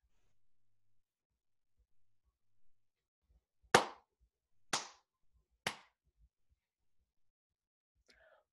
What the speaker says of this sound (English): How many times did I clap?